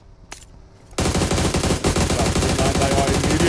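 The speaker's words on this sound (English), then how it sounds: "They are immediately shot." Video game gunfire bursts in suddenly after a quiet moment, turning into rapid, continuous automatic fire that is loud and close, with a brief isolated crack before it starts.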